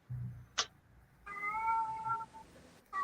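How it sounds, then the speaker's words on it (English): A cat meows in a long, drawn-out wail after a brief sharp click, with a low rumble at the start and the start of another meow at the very end. "We got a bunch of dying cats in here."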